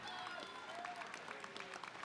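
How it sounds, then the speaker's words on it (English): At a cage fight event, the arena crowd applauds both fighters after the bout, a brief, faint spread of clapping with an announcer's voice running over it. "let's have a big round of applause for both of the fighters in this cage"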